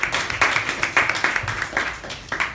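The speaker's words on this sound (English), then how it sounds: "A big round of applause, please." Clapping from a small group at a Toastmasters club meeting, several pairs of hands beating in uneven bursts that swell and dip over a couple of seconds, fairly close and moderately loud with no voices over it.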